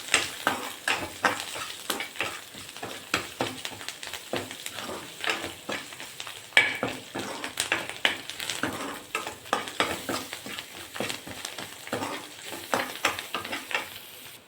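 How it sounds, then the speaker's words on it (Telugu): A cabbage tomato pachadi tempering fries in a pan, its continuous sizzle broken by frequent scraping, clinking stirs of a spoon against the metal, close and fairly busy. "వీటన్నీ వేసుకొని గోల్డెన్ కలర్ వచ్చే వరకు వేయించుకుందాం."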